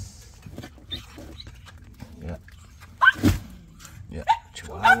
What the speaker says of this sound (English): Got us some Chihuahuas and Yorkies.